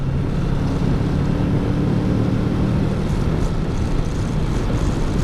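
A steady, loud Kawasaki Ninja 650 engine drone blends with rushing wind noise, holding an even roar throughout as if heard while riding at speed.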